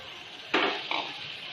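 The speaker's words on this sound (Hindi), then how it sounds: "की आंच पे मैंने तमाम जो मेरे भगार के अज्जा थे मैंने इनको हल्के से सौटे कर लिया है" Spices and garlic hit a hot pan on a low flame with a sudden sizzle, then a second burst of frying follows; a close, steady crackle and hiss continues with no voices.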